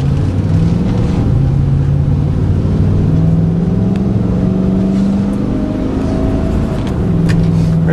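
A 2008 Chevy K3500 Silverado wrecker autoloader truck drives along, its engine holding a steady, loud drone with rising and falling tones as it moves through gears, with no talking.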